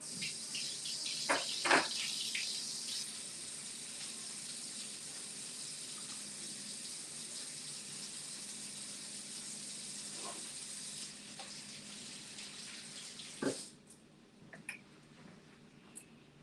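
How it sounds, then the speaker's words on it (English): Tap water runs steadily into a kitchen sink for hand washing while fish tacos are being prepared, a continuous close hiss that lasts about eleven seconds. A few soft clunks follow before the flow cuts off and leaves quieter room noise. "Now I'm going to go wash my hands."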